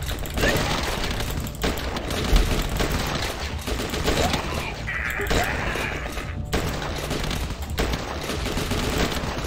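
Sustained rapid gunfire from a hunting rifle in the zombie-defense game The Last Stand 2, dense overlapping shots filling the whole stretch at a loud, steady level with no gaps.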